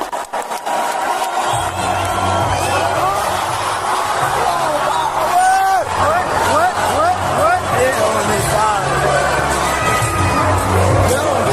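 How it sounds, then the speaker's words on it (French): A large concert crowd at a show cheers, whoops and shouts continuously, with loud whistles and scattered applause swelling after a brief quieter opening. "Tout le monde applaudit."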